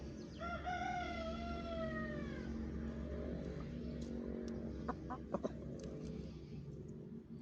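A rooster crows once, loud and close, followed by scattered soft clucks and brief knocks from chickens nearby.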